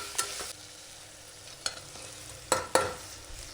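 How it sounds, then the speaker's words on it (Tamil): Tomato and ginger garlic paste are sautéed in a pan, with a soft sizzle behind a few sharp, scattered clacks of a spoon against the pan, close by and unaccompanied by talk. "அதுக்கப்புறம் தக்காளி இது எல்லாத்தையும் நல்லா வதக்கணும்."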